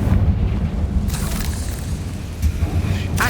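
A Confringo spell blast in Hogwarts Legacy gives a loud booming burst over a dense, rumbling game soundscape, with further sharp bursts near the end.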